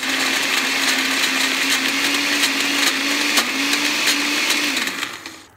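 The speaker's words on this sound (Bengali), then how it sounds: "এখন আমি আবারও শেষবারের মতো একবার ব্লেন্ড করে নিচ্ছি" A blender runs continuously, blending black cumin (kalijira) paste with a little pink salt. The motor holds a steady, loud whine, dips briefly partway through and winds down near the end.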